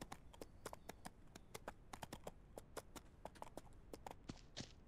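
Horse hooves clip-clop quickly and unevenly in the video game Ranch Simulator, a steady run of sharp, fairly quiet taps that carries on throughout.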